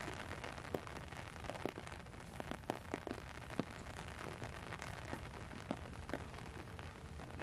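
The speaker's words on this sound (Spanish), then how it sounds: "porque aparte está arreciando la lluvia." Rain falls outdoors and grows heavier, making a dense, constant wash of patter with scattered sharper drops and taps, fairly close and without voices.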